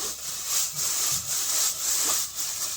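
Thin flattened rice (chira) being sifted to shake out crumbs, a close, steady rasping swish that swells and fades in a regular rhythm, with no one talking.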